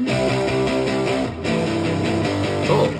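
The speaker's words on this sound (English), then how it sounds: "Your guitars." Two layered electric guitar parts, crunchy and distorted, play a steady chordal riff in a dense music production mix, loud and continuous with no talking.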